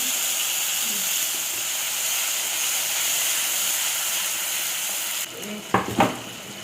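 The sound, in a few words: mustard seeds, dried chilli and nigella frying in oil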